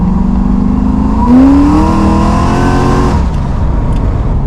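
A supercharged Holden VL Calais with a Harrop 2300 blower revs hard and loud from inside the car, the pitch climbing steadily for a couple of seconds before the engine drops back.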